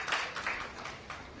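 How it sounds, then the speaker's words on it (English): Audience applause at a youth conference, a short burst of steady, dense clapping from a crowd that fills the whole moment without any voices. "Big round of applause."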